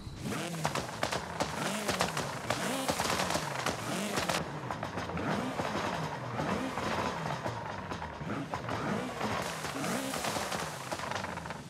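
A loud, revving race car engine with upgrades and anti-lag roars continuously, pitch rising and falling in repeated pulses with sharp crackling pops, in Forza Horizon 5.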